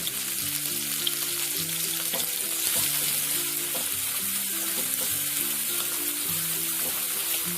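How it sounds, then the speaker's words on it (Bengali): Garlic and ginger paste sizzling steadily in a hot pan while being stirred, a continuous loud frying hiss over low tonal background music, with no voices. "রসুনের কাঁচা গন্ধটা চলে যাওয়া অবধি নাড়িয়ে দেবো"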